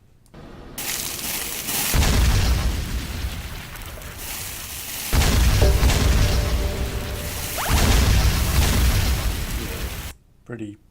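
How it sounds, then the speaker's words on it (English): Rainer gun from the LoD video game firing in three long, loud sustained bursts, each a roaring blast with whooshing texture, separated by brief gaps and ending abruptly. "This is a Rainer gun."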